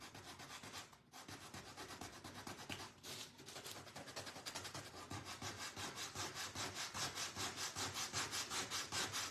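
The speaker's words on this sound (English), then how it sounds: "Let's sand out our little spots here." Wood is hand-sanded to touch up spots on a DIY surfboard wagon, close and loud, with brisk back-and-forth rasping strokes that settle into a steady rhythmic scrubbing.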